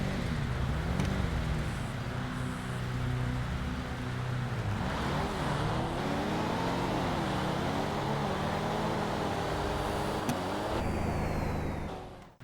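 Street race cars, including a Nissan Z, in GTA rev and accelerate with rising and falling engine tones, loud and continuous, with an occasional hiss near the end.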